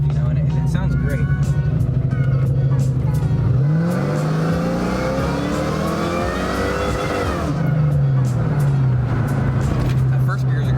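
A 1999 Ford Mustang Saleen S281's two-valve V8 revs hard and accelerates up through the gears, a deep throaty roar dropping and climbing again, loud and close throughout.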